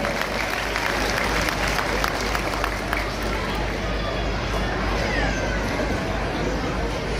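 Crowd applause at an outdoor Lohri celebration for daughters at a farm, sustained dense clapping from many people over a low rumbling background.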